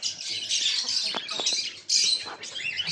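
A newly paired couple of birds in an aviary make repeated squawks and chirps, shrill bursts that come and go over soft rustling, fairly close.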